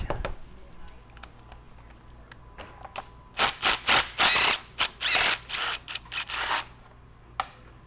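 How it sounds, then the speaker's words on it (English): A nut driver turns a nut in a shop: after a quiet start, close, sharp clicks and rattles come in quick clustered bursts, then fade to a few isolated ticks. "Or the nut driver works really good."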